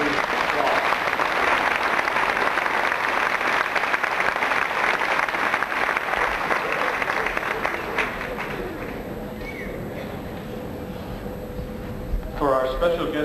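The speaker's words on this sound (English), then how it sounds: "applause." Sustained applause from a graduation audience, dense and steady for most of the stretch, easing slightly toward the end as a voice begins.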